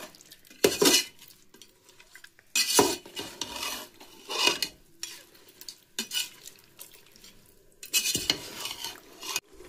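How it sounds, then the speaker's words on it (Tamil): Masala is worked into Dindigul-style biryani in a pot with bursts of scraping and clinking from a metal spoon against the vessel, loud uneven strokes separated by brief quieter pauses. "இப்போ மிக்ஸ் பண்ணிக்கிறேன்."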